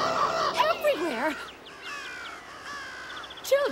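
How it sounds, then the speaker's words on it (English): Cartoon birds caw and squawk in a flurry of sliding, warbling calls, several overlapping at close range, with a burst at the start and another near the end, amid background sound from the animated scene. "Birds everywhere."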